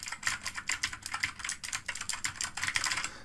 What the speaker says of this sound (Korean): 자, 청축은 소리가 굉장히 크죠.